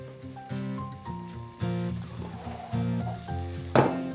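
Food cooking down over an open fire, a gentle sizzle and crackle heard alongside soft background music, ending with a brief clatter.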